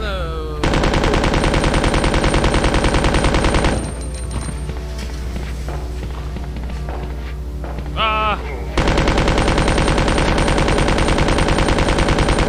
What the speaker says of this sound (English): Thank you for shooting the enemies.